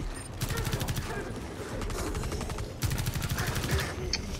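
Rapid bursts of automatic gunfire in the video game Rainbow Six Extraction rattle in quick rhythmic volleys, a pause, then another sustained burst, loud and close.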